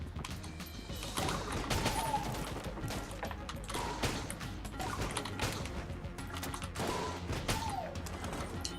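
Rapid gunfire from the primary projectile weapon in the video game Enter the Gungeon, a dense, loud stream of shots with impact crashes and game sounds layered under music.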